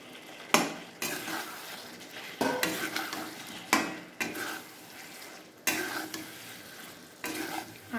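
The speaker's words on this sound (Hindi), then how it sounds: "आलू को हल्का सा भूनेंगे एक दो सेकेंड तक" Potatoes stirred and fried in masala in a pan, a spoon scraping in repeated bursts over a steady sizzle, close and loud with no talk.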